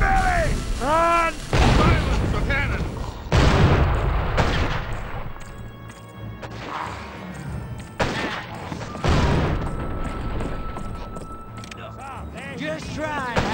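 Dynamite blasts and gunfire in the video game GUN during a fort attack: heavy booming explosions and volleys of shots, up close and loud, mixed with shouting voices and a steady stretch of background rumble.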